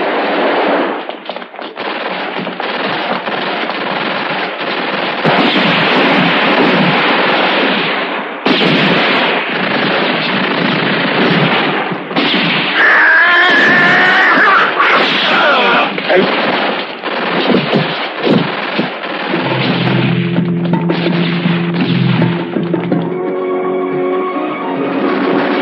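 Heavy machine gun fire in a film battle scene, with dense, loud bursts of automatic shots and blasts that run almost continuously and shouts and voices scattered through the din.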